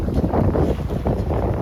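Steady wind roaring past a sailing boat moving at around five knots on a rising tide near a city, a loud continuous rush with gusty fluctuations and no talk.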